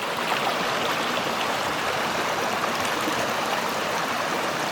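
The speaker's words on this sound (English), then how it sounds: "so we've got some running water" A small woodland river in Goyt Valley runs steadily, a continuous close rushing and gurgling of flowing water with no break and no voices.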